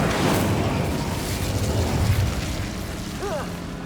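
Bombarda explosion spell in the Hogwarts Legacy video game, a dense, loud roaring burst that fills the scene and slowly fades, with faint magical chimes near the end.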